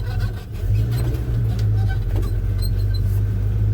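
Engine of a 1984 Chevy C10 pickup truck revving and pulling away, a loud, close, steady low rumble that swells slightly after a brief dip and holds throughout.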